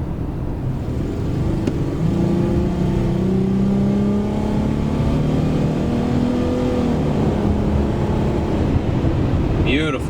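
A car's engine revs up past 4,000 RPM while driving after an alternator replacement, a steady rising drone with climbing tones, heard close and loud throughout, with a voice talking over part of it.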